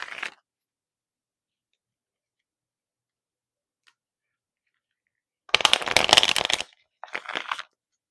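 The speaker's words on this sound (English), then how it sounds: "Let's get some tarot cards now." Tarot cards are shuffled close up in two short bursts of rapid riffling and flicking, about a second and then half a second long, after a brief tap and long stretches of silence.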